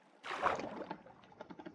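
A single soft splash of an oar pulling through water, followed by faint dripping and lapping, quiet and close, as in a game.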